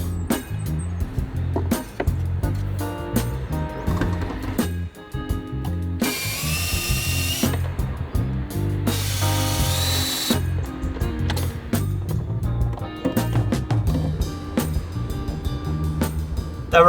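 A power drill bores 7mm holes into plywood for countersunk inserts during a camper van build, whirring in bursts with clicking and ratcheting between, two longer high-pitched drilling runs in the middle, close and fairly loud.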